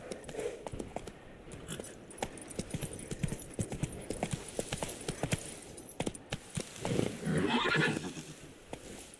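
A horse gallops at a steady pace in The Witcher video game, with loud, rapid clip-clop hoofbeats throughout and a whinny near the end.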